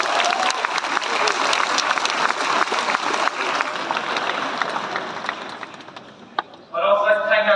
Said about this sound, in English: So round of applause, please.